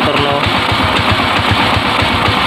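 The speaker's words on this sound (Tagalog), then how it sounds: "napapakinggan niyo naman yung tunog ng ating motor" A RUSI TC125 motorcycle with an engine prone to stalling idles close by, giving a loud, steady, rapidly pulsing mechanical thrum throughout with no talking.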